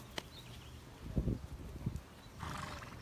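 A horse at an Arabian horse riding clinic shifts and steps, with a few low thudding hoof sounds in the middle followed by a breathy snort-like burst near the end, fairly close and without talk.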